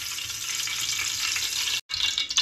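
Ghee heats in a pot over a gas stove, giving a bright, steady frying hiss up close, with one abrupt break of silence before the sizzle resumes unevenly.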